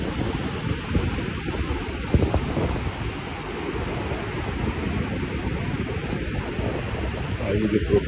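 Sea waves wash onto the beach at Rosarito, Baja California, on a drizzly day, a steady broad surf roar mixed with wind noise on the microphone.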